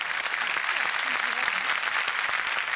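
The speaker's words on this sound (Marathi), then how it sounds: "समलिंगी तृतीयपंथी समाजाची माय ठरलेल्या रझियाजींसाठी एकदा जोरदार टाळ्या झाल्या पाहिजेत." Applause from an audience at a televised Marathi comedy show, honouring Raziya Sultan of Amravati, a mother figure to the transgender community; steady, dense clapping fills the short moment without a break.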